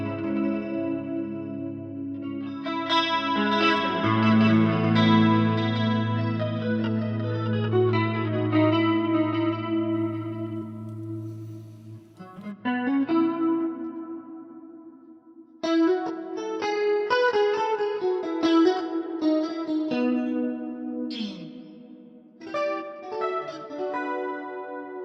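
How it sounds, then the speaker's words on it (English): Electric guitar played through a Legacy Dimension Chorus on an HX Stomp, shimmering modulated chords and single notes ringing with lush chorus width, a sustained passage followed by shorter picked phrases and bends, loud and alone. "I really like the Legacy Dimension Chorus."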